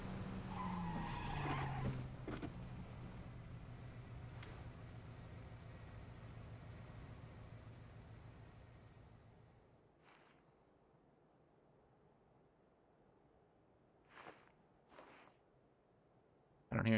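A vehicle in the Mad Max video game drives with a steady engine drone and a tire skid early on. The drone fades out after about ten seconds, leaving near silence broken by a few short bumps and a sharp closing noise.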